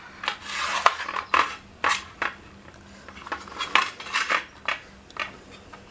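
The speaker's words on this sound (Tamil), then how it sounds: "அதுக்கு அதில் ஒரு கத்தி, ஓரம் இருக்கிற பகுதி இப்படி வெட்டி எடுக்கலாம்." A knife slicing through a slab of homemade sesame burfi along a ruler, giving repeated short scraping, rasping cuts at close range with brief pauses between strokes, no voices.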